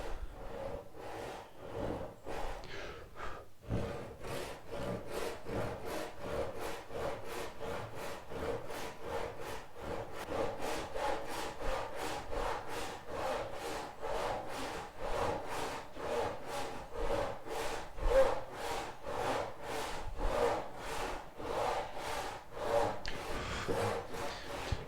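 Hand saw cutting wood at a 45-degree angle while making a vice support in a shed, steady rhythmic back-and-forth rasping strokes, close and continuous with no talk.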